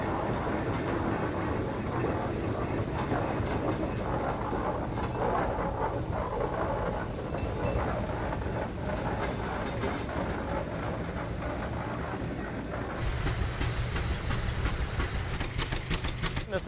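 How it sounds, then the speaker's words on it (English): A steady, loud mechanical chugging and hissing of a 1912 Baker steam traction engine runs throughout, with a brief shift in tone near the end, like a large engine idling nearby. "This is a 1912 Baker steam engine."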